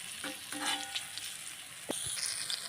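Fish sizzles steadily in a frying pan just after being flipped, a continuous bright crackle with a few louder spatters and scraping touches near the end, no talking.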